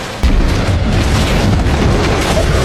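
A nuclear explosion bursts in with a sudden deep boom, then a sustained, heavy roaring rumble continues loudly without fading, with no voices.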